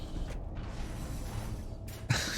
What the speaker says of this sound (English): My Titan's got a rattle on it.